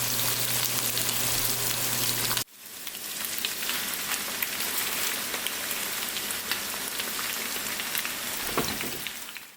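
Sausage, garlic, red pepper flakes and diced onion or shallots frying together in a pan, a loud, dense, close sizzle that drops briefly after a couple of seconds and then crackles on steadily.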